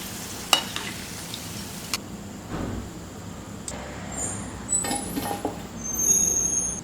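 Cabbage pakoda fries in hot oil over a medium flame with a steady low sizzle, broken by a few sharp clicks and small bursts of crackle near the end.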